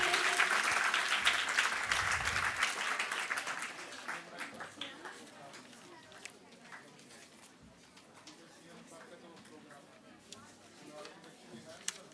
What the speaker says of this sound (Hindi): जोरदार तालियों से स्वागत आप सभी के लिए